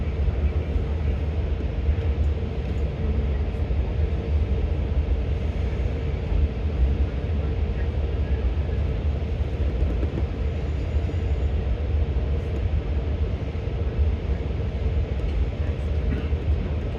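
Long Island Rail Road train riding from Long Island City toward Penn Station, a steady interior rumble and rattle of wheels on track, continuous and fairly loud with no clear talking.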